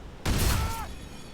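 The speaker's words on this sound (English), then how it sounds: "Now let's use the bolter. So this is the Chaos Bolter." A Chaos Bolter fires once in the Blade and Sorcery video game mod, giving a sudden loud blast with a rumbling low tail and a brief whistling projectile streak that fades over about half a second.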